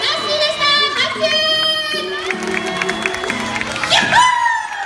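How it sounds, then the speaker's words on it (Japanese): Audience at a Funassyi talk show event cheering and clapping, a crowd of mixed voices including children shouting excitedly, lively and sustained throughout with musical tones mixed in. "拍手"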